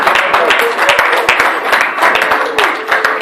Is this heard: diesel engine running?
no